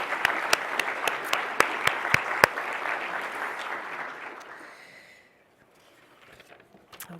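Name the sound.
applause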